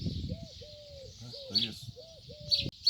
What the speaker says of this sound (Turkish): Belki de bize diyorlar ki susun da biraz kuşları dinleyelim.